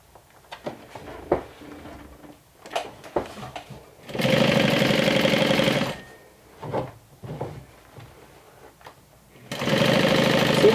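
A sewing machine stitches a half-inch seam along a medium crossbody tote bag, two steady bursts of rapid mechanical whirring, the first about two seconds long and the second starting near the end, separated by quieter handling noises.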